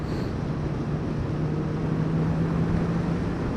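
A 2018 Honda CB650F inline-four motorcycle cruising at 60 mph around 4,500 rpm, a steady engine drone mixed with heavy wind rush, continuous and fairly loud with no talking.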